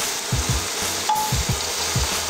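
Mushrooms sizzle in a butter and oil mix in a pan, a constant crackling hiss close up with a few soft utensil knocks against the pan, no voices.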